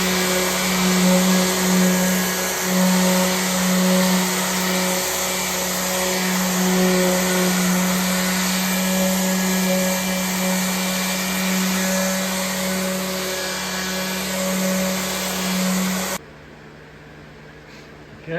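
A power sander runs on a wooden dresser during a restoration, a loud steady motor whine with a constant hum, continuous for about sixteen seconds before cutting off abruptly to near silence.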